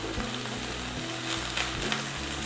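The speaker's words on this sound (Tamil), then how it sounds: "பாருங்கள், இந்த மாதிரி லைட்டாக வதக்கிட்டு" Moringa leaves sautéing lightly in a hot pan, a soft continuous sizzle with faint stirring pulses at close range, without talk.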